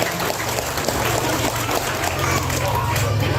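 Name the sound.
applause for the regent at a ceremony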